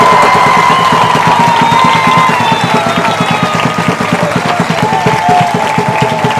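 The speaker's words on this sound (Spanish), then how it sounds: "aplauso para el Señor" A congregation applauds in a church service after a debate, a steady dense wash of many hands clapping together, loud and close, with a few voices and cheers mixed underneath throughout.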